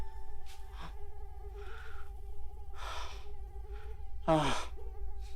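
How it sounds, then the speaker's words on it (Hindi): A mosquito whines indoors at night, a thin, steady buzz held throughout, broken by a few breathy sighs and snorts nearby. "मच्छर।"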